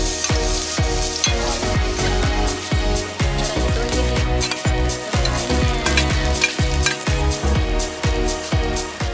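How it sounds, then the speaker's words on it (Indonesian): Mangrove Jack fish sizzles and crackles loudly in a frying pan, with dense hissing and a quick run of metallic clanks from stirring or utensils knocking the pan, continuing without pause and with no talking. "Saatnya lanjut kita goreng ya"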